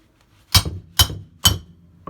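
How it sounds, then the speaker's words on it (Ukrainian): A wrench is forced on a suspension strut nut of a ZAZ Slavuta car, making three sharp metallic cracks about half a second apart, loud and close, with near silence between them. "Пробуємо нашу стоєчку відкрутити. Надо отако зараз зірву його."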